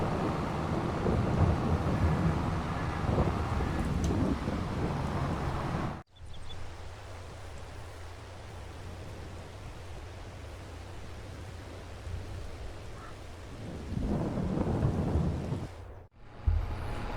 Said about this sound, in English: the rain has subsided